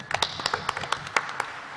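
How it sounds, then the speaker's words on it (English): Quick, sharp hand claps land in an uneven series of about a dozen hits, close and moderately loud, over a faint steady background hiss. "Did you hear the claps?"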